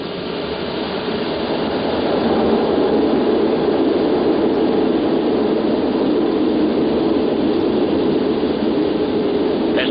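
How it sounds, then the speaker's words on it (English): Concorde jet engines roaring from the cockpit during the takeoff roll, a loud, steady, broad rumbling roar that swells early on and then holds constant throughout, with no talk. "Okay, we're cleared for takeoff."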